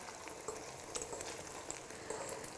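Egg mixture frying in a hot pan for a bread omelette, a steady close crackling sizzle with small spits and pops, alone and without talk.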